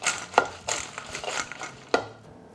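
Fries being tossed in a bowl with olive oil, garlic, pepper and Italian herbs give off a few sharp close clatters amid soft rustling scrapes, with no voices.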